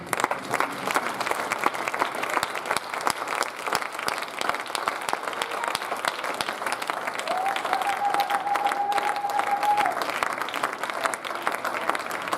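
A church congregation applauding during a sermon: sustained, dense clapping from many people, steady and fairly loud for the whole stretch, with a faint held tone partway through.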